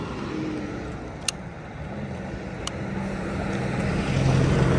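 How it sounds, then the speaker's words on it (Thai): A 2016–2017 Honda CBR650F motorcycle idles steadily, a close, even low hum that rises slightly in level toward the end, with a couple of faint brief clicks. "ฟังเสียงเครื่องคันนี้กันครับ"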